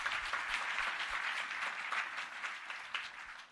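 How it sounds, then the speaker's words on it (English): Audience applause for winners at a science excellence awards ceremony, many hands clapping in a steady, moderately distant wash that stays even throughout. "So a hand of applause again to all our winners."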